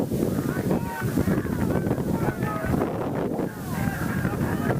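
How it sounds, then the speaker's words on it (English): Steady, heavy wind buffeting the microphone at a high school football game, a constant low roar throughout, loud and close. "we are getting windy out here"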